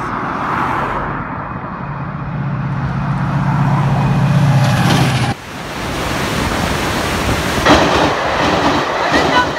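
Two Class 68 diesel locomotives, 68016 and 68017, haul a train past close by at Plymouth, loud engine rumble and rushing noise, then rhythmic wheel clatter as the carriages follow.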